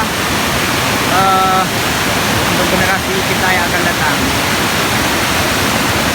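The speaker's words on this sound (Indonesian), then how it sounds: "Inilah air terjun Tujuh Bidadari." The Tujuh Bidadari waterfall in Aceh rushes with a constant, full roar while someone talks over it.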